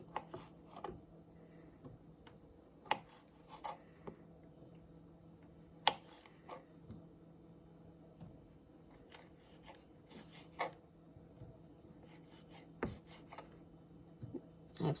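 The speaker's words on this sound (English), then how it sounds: "we want to cut these into about a 1-inch" A knife cuts smoked sausage into pieces about an inch thick on a board, each cut a soft thud or scrape at an uneven pace, faint and close.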